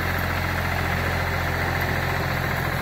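A Ford tractor engine idles steadily and loudly up close, a continuous low rumbling drone with a faint knocking texture and no other sounds.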